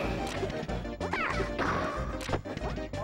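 Jigglypuff lands a down smash attack in Super Smash Bros. 64, with sharp crashing hits and thwacks one after another over a dense bed of game sounds and music.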